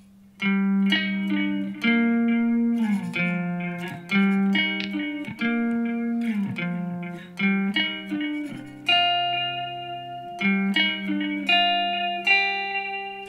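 An electric guitar plays a ringing, sustained riff with effects-laden tone, notes overlapping and shimmering, played alone and fairly loud.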